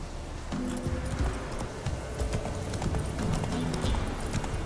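Hooves of Roach, the horse in The Witcher 3, clip-clop steadily and close at a brisk gait over a busy game soundscape, with a faint whinny and some talk underneath.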